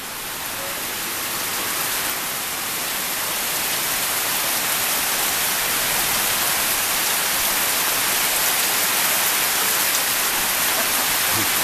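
Steady rain pours down during a storm, a dense, even hiss that swells slightly and then holds constant, close and uninterrupted, with no talking.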